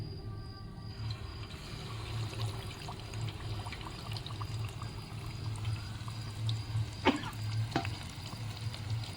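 A whole chicken frying in hot oil in a home kitchen: a steady, fairly quiet bubbling sizzle with faint trickling, broken near the end by a couple of sharp spatters and pops.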